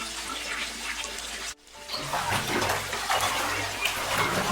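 In a cartoon, a brown crow bathes in water, with continuous splashing and pouring water that stops briefly and then returns louder, busier and closer.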